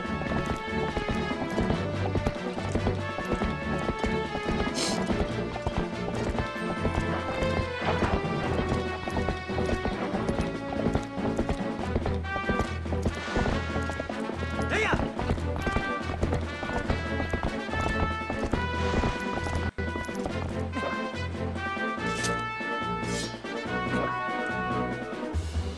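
Horse hooves clip-clop at a steady gallop in Twilight Princess HD, loud and continuous over game music, with occasional crashes and a whinny.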